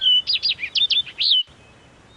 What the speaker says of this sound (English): Sister saw stars circling around her head and heard little birds chirping.